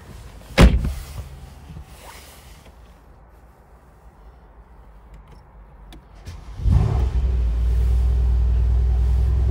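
A Mercedes-Benz C63 AMG S Cabriolet with a 4.0 V8 BiTurbo fires up. A sharp starter crank and flare is followed by a quiet pause with clicks, then a second deep rumble rises into a loud, steady idle.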